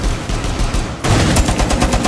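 Video-game gunfire bursts out in loud, rapid, close shots that grow denser partway through, with no talking over them.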